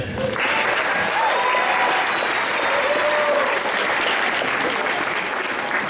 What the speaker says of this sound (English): Everyone give it up for Mr. Smith.